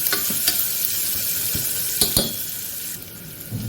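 Onions frying in a pan while sambar is being made: a continuous close sizzle broken by several sharp scraping stirs of a spoon against the pan, with no talking.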